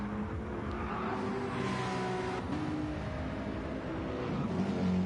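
Race cars at the Nürburgring 24 Hour race roar past in a steady, loud engine drone, with low rhythmic thumps as tyres run over concrete sectioning, no voices over it.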